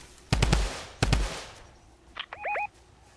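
Gunfire in the video game Fortnite: two short, rapid automatic bursts ring out close and loud about a second apart, followed by a quiet pause and a few chirping electronic tones.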